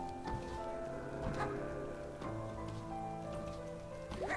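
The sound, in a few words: rain in the video game Night in the Woods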